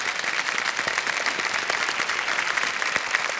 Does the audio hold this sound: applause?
yes